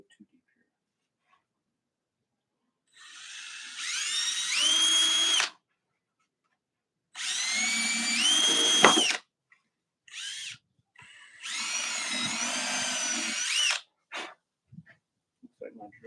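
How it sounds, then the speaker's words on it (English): Power drill with a dull bit boring into a box project, three separate whining bursts with rising and falling pitch, close and fairly loud, separated by brief pauses and small knocks. "Looks like my drill bit is quite dull."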